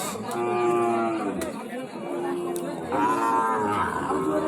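Young Sahiwal cattle moo repeatedly at a cattle market, with several loud, close bellows against a murmur of background chatter.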